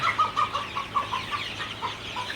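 Several broiler or Sonali chickens on a farm cluck in short, repeated bursts, fairly close and steady, with no voices over them.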